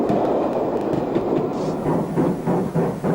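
A newly built LNER Peppercorn A1 steam locomotive in blue livery passes on a 1940s railway. Its loud rumble and clatter carry steadily, rhythmic wheel beats rise and fall as the train goes by, and nobody speaks.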